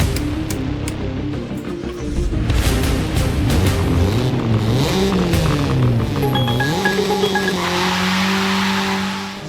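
A loud Chevrolet Cobalt race car engine revs to around 7000 rpm and shifts gears steadily up close, with a brief tire squeal as it corners on the track.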